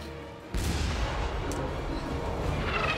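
A sudden heavy boom of cannon fire erupts in a live-action One Piece episode, followed by a sustained roaring rumble of blasts and debris, loud and close.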